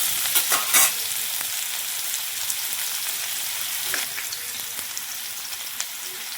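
Chopped onion frying in hot oil with popped mustard seeds in a pan for a gawar (cluster bean) curry, a steady close-up sizzle with a few sharper crackles early on.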